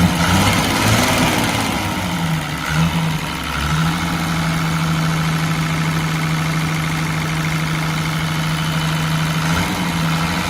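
Isuzu 6BB1 diesel engine in an 8-metre Chokchai bus with FBR suspension, running steadily with a low droning hum and mild throttle swells, close and continuous throughout.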